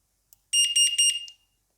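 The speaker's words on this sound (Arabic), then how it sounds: "الهورن او جرس التنبيه بتاع السرينة" An electronic siren horn for motorcycles, scooters and bicycles blares a rapid, pulsing high-pitched tone for about a second after a brief click, then stops.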